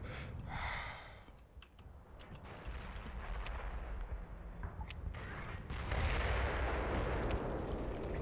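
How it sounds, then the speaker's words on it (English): Gunfire in the video game Black Mesa, a muffled, rumbling exchange of shots and blasts with sharp cracks at intervals and a denser burst near the end, mixed with keyboard clicking. "Something big was over there shooting at me"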